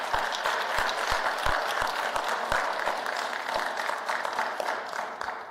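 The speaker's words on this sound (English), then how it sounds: "Please give your family a round of applause." An audience applauds at a physician assistant program graduation and white coat ceremony, dense sustained clapping from a large crowd that carries on at an even level with a few sharper claps standing out near the front.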